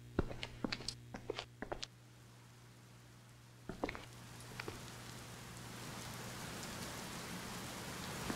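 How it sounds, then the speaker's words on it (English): Steady rain falls in the Dark Fracture horror video game, a dense hiss of drops with scattered footsteps and clicks early on, growing slightly heavier toward the end. "Of course it's raining."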